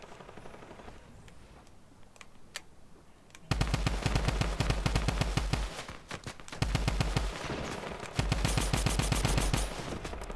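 Rapid automatic gunfire from Fortnite Battle Royale crackles in dense, loud bursts, starting after a quieter opening with scattered pops and continuing with brief gaps through the rest of the stretch.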